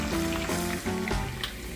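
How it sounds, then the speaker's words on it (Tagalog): Garlic, onion and ginger sauté in hot oil for adobo, a close, continuous sizzle with faint tonal hum underneath. "Papulahin lang natin sa mantika at kasama na natin yung bawang, sibuyas at luya."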